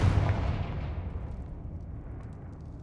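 Confringo, the blasting spell in Hogwarts Legacy, ends in a deep explosion whose rumbling boom is already underway and decays steadily over a few seconds.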